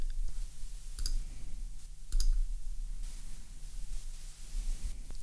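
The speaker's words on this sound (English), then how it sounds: "I click over here, and then I click over here." Computer mouse clicks sound close and crisp, a few sharp single clicks spaced about a second apart over a faint hiss of room noise.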